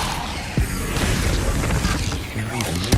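Depulso spell being cast in Hogwarts Legacy, with a sharp percussive burst and crackling magical whoosh over dense game effects and ambient noise, brief impacts punctuating the wash of sound.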